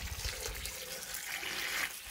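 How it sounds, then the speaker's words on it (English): Gallon of hot water being poured into a basin for washing long wool, a steady continuous splashing rush of liquid heard close and alone throughout. "here I'm coming back with the second gallon of hot water."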